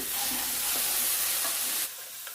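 Okra pieces fry in a pan with a loud, steady, close sizzle that fills the whole stretch and then drops abruptly to a lighter hiss near the end.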